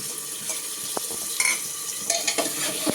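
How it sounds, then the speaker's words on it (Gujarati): Gravy with soya chunks stirred in a pan, a low sizzle under soft scraping and a few spoon taps against the metal, close and quiet, with no talking. "સરસ મજાની ગ્રેવીને હલાવી."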